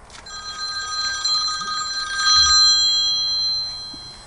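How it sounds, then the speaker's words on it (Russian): A telephone rings indoors in a home kitchen setting, its bright electronic ringing tone repeating steadily and fairly loud for several seconds with no talk over it. "О, звонок."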